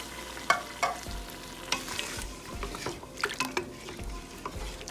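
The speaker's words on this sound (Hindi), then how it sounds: "अब इसमें मैं डालूँगी 1 कप पानी।" Mutton palao frying in a pressure cooker, with a steady close sizzle and repeated scraping stirs of a spoon against the pot, a few louder clinks standing out.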